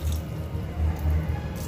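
Water poured into a pot of mutton curry gives a low, close-up sloshing and bubbling pour lasting under two seconds, with no talking.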